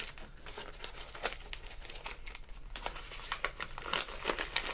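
Crinkling and rustling of sturdy, thick wrapping paper being unwrapped from a Christmas exchange parcel, with close, irregular crackles and short tearing bursts continuing throughout and no voices.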